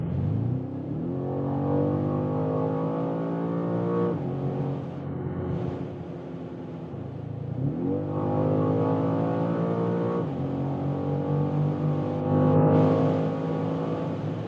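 A 2025 BMW M5 sedan pulls hard on the German Autobahn, its engine note climbing in long rising sweeps through repeated gear changes, loud and continuous from inside the cabin with no talking.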